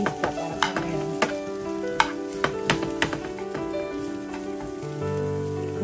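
Onion frying in a pan, a bright continuous sizzle with regular clinks and taps of a utensil stirring against the pan, close and fairly loud, with a steady tone droning underneath.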